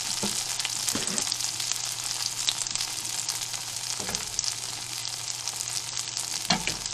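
Food frying in a pan, flipped to cook briefly on the second side: a steady, bright broadband sizzle throughout with occasional soft clinks of the utensil, close and fairly loud, no talking.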